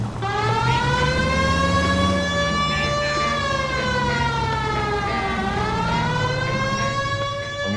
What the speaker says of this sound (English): This seems like a good time for the siren